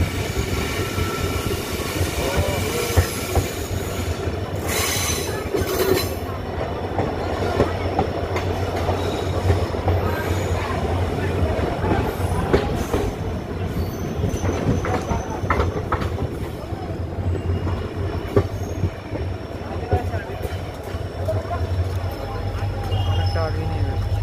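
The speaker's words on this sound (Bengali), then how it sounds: "নকশালবাড়ি চলে এসছে বন্ধুরা আমাদের ট্রেন" Siliguri Intercity Express passenger train rolling steadily on rails near Naxalbari station, with a continuous low rumble and clickety-clack of the wagons throughout, plus faint voices in the background.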